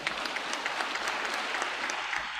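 At a military academy pipping and commissioning ceremony, a large crowd applauds to honour a group of wives. The clapping is a thick, uniform roar of many hands, steady and fairly loud from start to finish.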